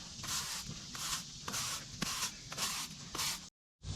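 A pressure washer sprays a coat of bleach onto a grimy surface: a steady, loud hiss in pulsing bursts about every half second, cutting out abruptly near the end.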